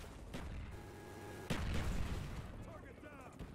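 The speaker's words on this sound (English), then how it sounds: "Oh, they're shooting me down? Really?" Gunfire and a heavy boom in Black Ops, with a sharp blast near the middle followed by rumbling shots and chatter of game audio, players talking over it.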